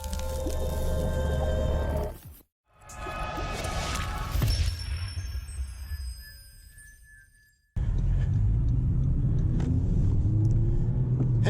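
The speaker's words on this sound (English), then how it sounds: "today we're driving one of my favorite cars, the Civic Type R" 2021 Honda Civic Type R driving: the engine drones and rumbles under cabin and road noise, cuts out briefly, rises again, fades to near silence and then returns as a steady loud drone, heard from inside the car.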